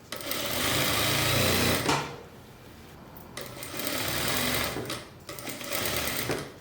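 Sewing machine running a safety seam on a ruffled pantacourt jumpsuit: three fast, loud bursts of rapid stitching separated by short pauses, close and without talk.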